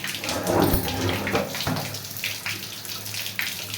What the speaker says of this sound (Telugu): ఆమె వేడి నీళ్ళు చన్నీళ్ళు గుర్తుపడుతుంది అనమాట